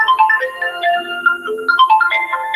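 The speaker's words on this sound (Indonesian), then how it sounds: "Ini ada telepon tapi nggak tahu cara mematikannya" A phone ringtone plays during a religious sermon gathering: a bright, melodic electronic tune of repeating tone phrases, steady and fairly loud, running continuously with no talk over it.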